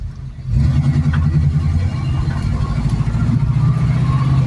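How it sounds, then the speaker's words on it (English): A 1972 AMC Javelin AMX with a 401 engine idling in gear, a steady low rumble that starts abruptly and then holds smooth and even, close by. "When you're idling in gear, it idles nice and smooth"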